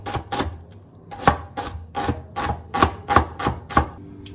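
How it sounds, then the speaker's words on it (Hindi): Onions are chopped on a board with a knife, about a dozen crisp, evenly paced strokes close to the listener, each a short sharp knock. "और मैं अब काट रही हूँ प्याज"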